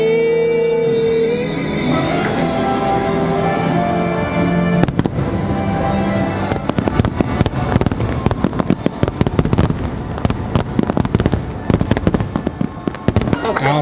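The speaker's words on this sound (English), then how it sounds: "thank you so much for paying for all those fireworks for my birthday." Fireworks for a birthday at California Grill: a rapid barrage of loud booms and crackling pops, dense and overlapping in the second half, with music and voices underneath at the start.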